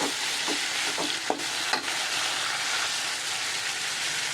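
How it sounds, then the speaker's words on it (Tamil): Pirandai, green chilies and garlic sautéing in a pan for pickle, a continuous bright sizzle and crackle with a few sharp scrapes of stirring near the start. "பிரண்டை, மிளகாய், நமக்கு தேவையான அளவு மிளகாய், பூண்டு, இது மூணு போட்டு தான் வதக்கிறது"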